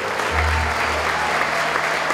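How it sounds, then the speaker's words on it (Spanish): Audience applause at a school graduation ceremony fills the room: steady, dense clapping from many hands throughout, with a low hum running underneath. "con el fuerte aplauso de los presentes"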